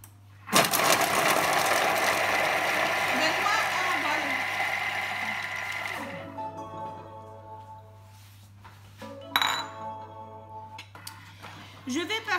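A kitchen food processor purees spring onion at speed 5 with a loud, steady whirring blend for about five seconds. It then winds down, followed by a few clatters of the lid and bowl while a person talks nearby.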